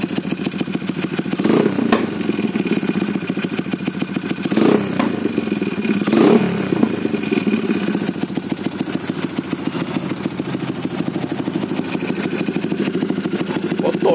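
A Yamaha 135LC motorcycle, fitted with a spec 65 setup and left unstarted for two weeks, runs after a cold start, a close, rapid single-cylinder putter with rattly clatter and a few brief blips of revving.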